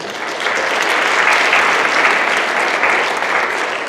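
Steady, sustained applause from an audience, a dense wash of clapping that holds at a fairly loud level for several seconds.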